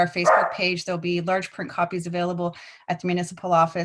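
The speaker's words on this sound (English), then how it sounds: "sorry about my dog, he hears talking." A dog barks briefly in the room at a regular municipal council meeting, a short burst near the start under a man's continuous speech.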